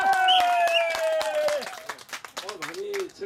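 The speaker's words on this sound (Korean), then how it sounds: "자, 박수." Short clapping from a crowd at a Korean community event, a few sharp claps under a lingering sung or spoken note, then thinning hand claps mixed with voices.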